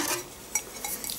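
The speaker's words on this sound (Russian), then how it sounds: "Сейчас я достану эту кастрюльку." Light clinks and a soft scrape of a black ceramic pot being lifted out of a Kitfort KT-206 slow cooker, a few brief knocks close by, with no talking.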